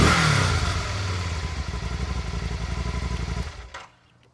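A 2012 Can-Am Spyder RS three-wheel motorcycle engine cranks and catches, settling into a loud, close, steady idle with rhythmic pulsing before cutting off near the end.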